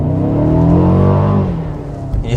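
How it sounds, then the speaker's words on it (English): A Mercedes CLA 220 in sport mode with its exhaust valves open rumbles deeply up close, a sustained rev that swells, then eases off near the end. "So the exhaust valves, they open and it sounds different, deeper."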